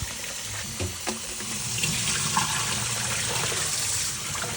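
Running water rinses salted salmon roe in a colander, a steady close gush with a few brief clinks and splashes as the roe is stirred.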